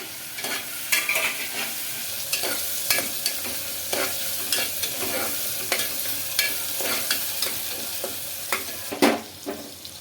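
Steady oil sizzle as tomato pieces fry in a pan with sharp scraping and stirring clicks recurring throughout, close and moderately loud, no voices.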